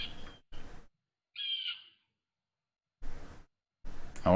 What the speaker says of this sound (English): the birds are really loud